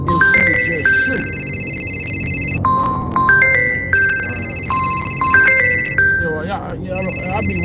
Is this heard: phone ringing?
yes